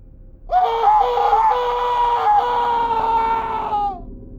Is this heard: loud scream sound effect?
yes